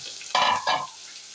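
Onions dropped into a hot pan, with two short bursts of loud close sizzling against a quiet background, no talking.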